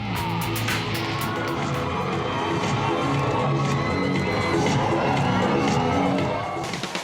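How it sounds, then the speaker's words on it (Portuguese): A lucha libre wrestling crowd erupts in loud, sustained cheering and shouting, with whoops and cries layered over a dense roar that holds steady for the whole stretch. "a plateia vai ao delírio"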